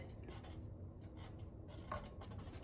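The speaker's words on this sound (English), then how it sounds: "We're just going to stir until the cream cheese is all melted" Cream cheese is stirred in a pan until melted, giving quiet scraping and tapping of a utensil against the pan in an irregular rhythm, close by but faint.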